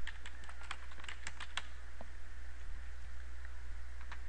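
Fingers type on a computer keyboard in a burst of quick, close key clicks for about a second and a half, then a few isolated taps over a low steady hum, with no talk.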